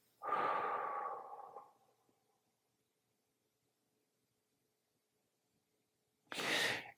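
A long, forceful abdominal exhalation during a breathing exercise is close and breathy, lasting about two seconds and then fading into silence, followed near the end by another short, sharp breath burst.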